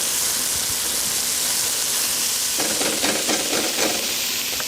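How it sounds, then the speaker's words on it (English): Bacon and diced yellow onion fry in oil under a steady hiss, which turns into a burst of louder crackling and scraping as the pan is stirred partway through. "Give it a stir."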